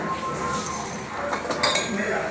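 Peanuts roasting in a pan with light metallic clinks and scraping, irregular taps of utensil against pan at close range.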